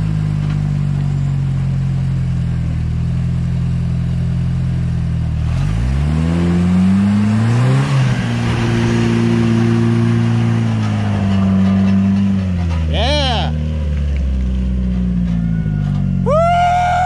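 Off-road Jeep TJ engine at an OHV park on a rainy day, loud and close, idling then revving up and down with rising and falling pitch, sustained throughout.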